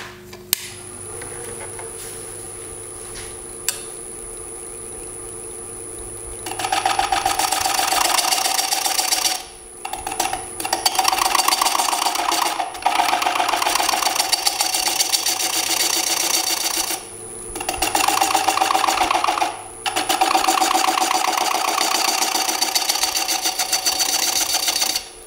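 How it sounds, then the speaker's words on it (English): Wood lathe spinning while a 1/4-inch bowl gouge cuts a small decorative detail into a wooden display piece, a steady loud whirring scrape in several long passes with brief pauses, starting after a quiet hum. "I'm going to take a bowl gouge and make a little detail in there."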